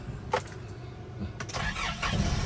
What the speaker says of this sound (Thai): เอา ฟังเสียงเครื่อง นิ่มนโดนขนาดไหนนะครับ